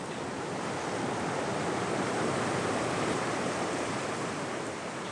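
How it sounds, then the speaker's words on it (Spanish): A turbulent river in the Congo that grows dangerous in the wet season, heard as a steady, dense rushing roar of water, constant and unbroken with no voices. "Es un río turbulento que durante la estación húmeda se vuelve muy peligroso."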